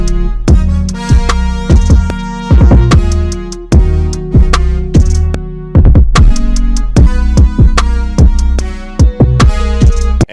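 Octave brass horn plugin played on an MPC Key 37, loud sustained brass chords in a rhythmic riff with sharp punchy attacks, alone with no talking.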